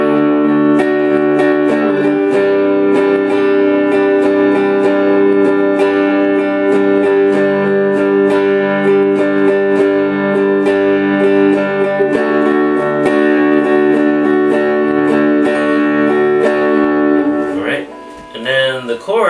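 Electric guitar strummed continuously through the chords of a song, sustained and loud for most of the passage before it cuts off and fades near the end, with no voices.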